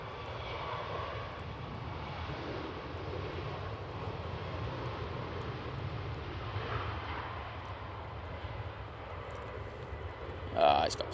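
A Ryanair jet takes off at Manchester Airport, its engines giving a low, steady, distant rumble that lingers with little variation, fairly faint, ending with a brief louder knock.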